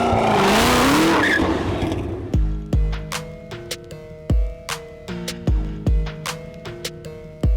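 800 whp Ford GT doing donuts and burnouts: an opening roar of engine and screeching tires, then a series of loud rhythmic revs and bursts with music-like tonal backing, close and forceful.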